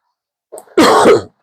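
A single sharp, close cough preceded by a brief throaty catch, loud and abrupt in otherwise quiet surroundings.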